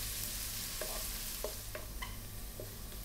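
Garlic and ginger sauté in a pan, a soft steady sizzle punctuated by several brief utensil taps and scrapes, faint and close with no speech.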